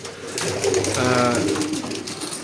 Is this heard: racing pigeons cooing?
yes